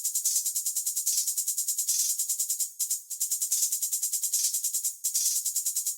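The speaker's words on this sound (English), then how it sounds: "And this hi-hat pattern." A crisp hi-hat pattern ticks in rapid even steps with quick rolls and short gaps, bright and fairly faint, alone without talk.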